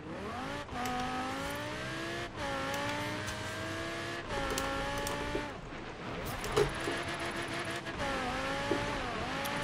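An Audi R8 Coupe V10 Plus 5.2 FSI quattro in Forza Horizon 3 accelerates hard, its engine note climbing steadily, then cutting back at each gear change over several pulls.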